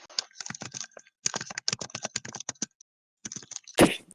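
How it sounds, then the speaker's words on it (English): A typewriter clacks in quick bursts of sharp keystrokes, pausing briefly between runs and ending with a louder clunk, close and dry. "Oglug pulls out a typewriter."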